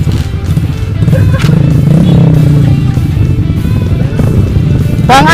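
A Yamaha Mio automatic scooter engine revs up close, loud and continuous, alongside other motorcycle noise on a rough trail ride.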